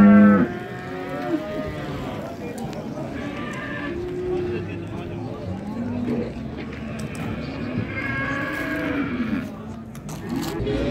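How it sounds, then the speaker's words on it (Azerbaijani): Cattle moo repeatedly at a busy livestock market in Beylagan, Azerbaijan, deep lowing calls near and far mixed with crowd chatter and people talking. "bu belə erkək danalar"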